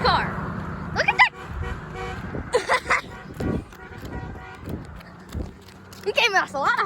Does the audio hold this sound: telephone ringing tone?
no